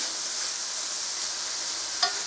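Onion and beetroot leaves fry in a pan with a steady, bright hiss of sizzling oil, close and even, broken by one brief stirring clink near the end.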